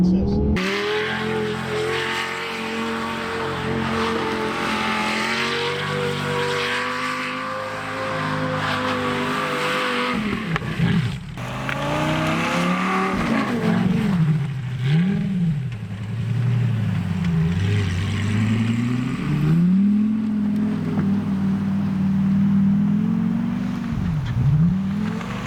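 An all-wheel-drive Lamborghini engine holds a steady high drone, then revs up and down repeatedly in rapid swells while the car spins donuts, loud and nearby with a faint tire scrub.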